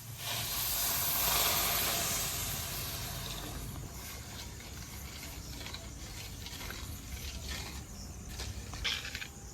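Water poured into hot sugar in a heated kadai, making syrup for Puri-style khaja, hisses in a loud steamy rush that swells early, then settles into a steady bubbling sizzle.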